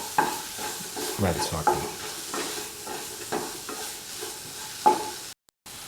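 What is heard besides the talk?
tomatoes being crushed and stirred in a pan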